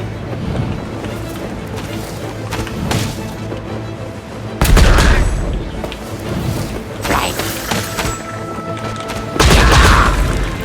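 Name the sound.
bombs exploding in Genshin Impact video game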